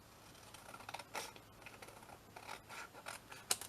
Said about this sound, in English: Cut it all the way through.